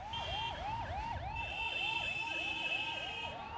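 A wailing ambulance siren sweeps up and down repeatedly in Indian road traffic, steady and fairly close with a second higher tone layered over it, and no voices.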